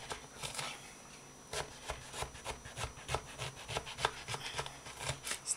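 A knife slices through peeled eggplant on a cutting board, giving a series of short, soft, regular cutting strokes heard up close and fairly quietly.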